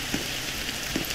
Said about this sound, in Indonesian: Hujannya lebat kali guys